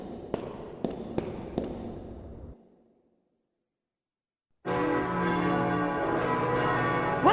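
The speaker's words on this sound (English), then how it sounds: "What's that bell?" In the video game Koudelka, a church bell strikes four times in a quick, evenly spaced series and its ring fades into silence, followed by a sustained musical drone.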